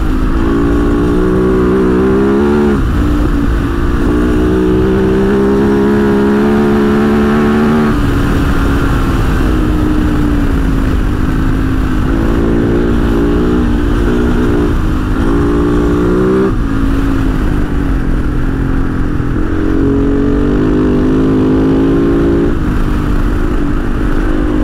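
A 2024 Kove FSE 450 rally motorcycle rides and revs up close, its engine note rising and falling through repeated throttle blips and gear changes with steady road roar underneath.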